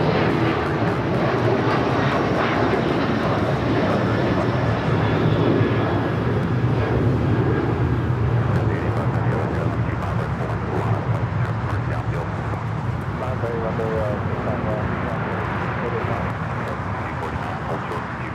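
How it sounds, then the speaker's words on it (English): A Boeing 737-800 airliner taking off at Los Angeles LAX, a sustained jet roar that stays loud and gradually eases as it climbs away, with faint distant tones mixed in. "737-800 taking off."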